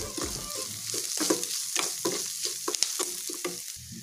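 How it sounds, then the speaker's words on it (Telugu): Spices are fried in a pan with salt, turmeric and chili powder for an Andhra-style vadiyala curry, with a steady sizzle under repeated scraping and stirring strokes up close and no voices. "ఇలా బాగా ఫ్రై అయిన తర్వాత కొద్దిగా సాల్ట్, పసుపు, కారం వేసి ఫ్రై చేయాలి"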